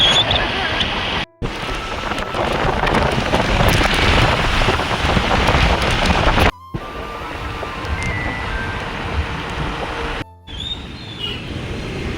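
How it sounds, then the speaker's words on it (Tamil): Rain falls as a steady, loud wash of broadband hiss, broken by a few abrupt cuts, with a wind-like roar in places. "இங்கிட்டு மழை"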